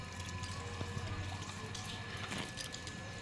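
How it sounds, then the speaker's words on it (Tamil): Water runs steadily outdoors as a father waters plants, with a continuous hiss and splash at close range and no talk. "அப்பா வந்து தண்ணி விட்டுட்ருக்காங்க."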